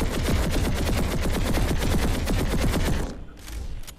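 The Pulsar Compact, a Vanu energy rifle fired by an Engineer in Planetside 2, lets off a fast, even automatic burst of about three seconds that stops abruptly and leaves a short tail of ambient noise.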